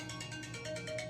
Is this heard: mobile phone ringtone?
yes